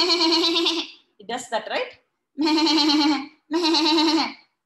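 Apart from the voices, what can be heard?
goat bleating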